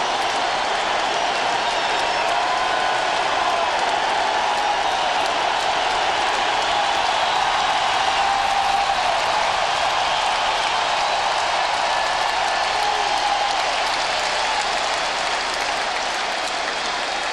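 Sellout baseball stadium crowd cheering a Barry Bonds home run in 2001 during the ninth inning of a 9-2 game; a dense, sustained roar and applause fills the whole stretch, loud and steady with no talk.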